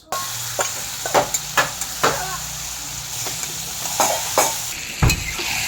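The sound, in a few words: bay leaves frying and sizzling in oil with potatoes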